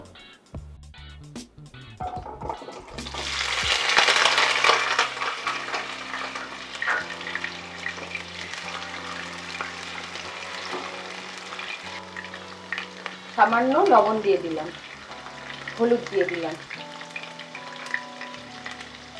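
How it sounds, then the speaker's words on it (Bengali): Potatoes fry in hot mustard oil in a wok. The sizzle swells from a quieter start into a loud, continuous crackle, and someone talks over part of it. "তেল গরম হয়ে গেছে, এখন আমি আলু ভেজে নেব"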